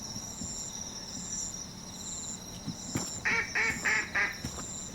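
A duck in a video game gives a short run of four or five quick quacks near the end, over a steady bed of insect-like chirping and ambient game tones.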